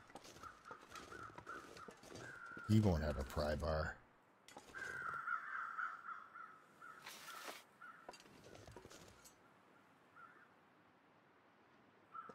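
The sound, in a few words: crows cawing in a video game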